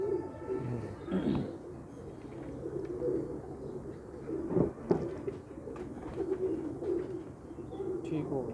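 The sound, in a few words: pigeons cooing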